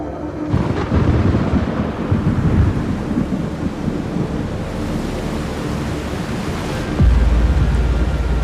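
Deep rolling thunder rumbles over steady heavy rain, with a fresh loud crack and boom near the end.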